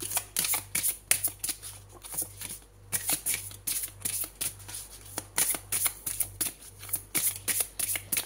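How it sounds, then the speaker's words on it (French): Tarot cards riffle and slide in a steady, crisp shuffle, a rapid series of close papery flicks and snaps continuing throughout, with no talking. "je vais prendre une autre carte"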